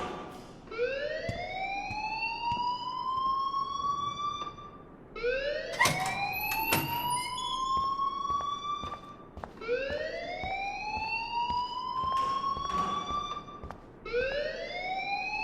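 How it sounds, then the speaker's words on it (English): An alarm rings in the video game Life is Strange, a loud rising electronic siren whoop repeating about every five seconds, with sharp clanking hits layered over it and no voices. "please turn off that alarm since that's your job"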